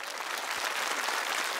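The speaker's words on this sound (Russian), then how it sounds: "Мама, вам аплодисменты" A television singing show audience applauds a contestant's mother seated in the hall: a bright, even wash of many hands clapping, sustained and fairly soft, with nobody speaking over it.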